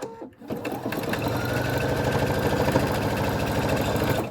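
A sewing machine stitches a small zippered keychain wallet pouch, running steadily and close up for about four seconds after a brief pause, with a fast, even mechanical chatter.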